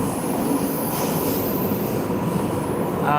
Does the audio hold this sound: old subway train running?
yes